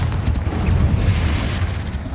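A Confringo fire spell goes off in the Hogwarts Legacy video game, a deep booming blast that rumbles on for about two seconds among other game noise.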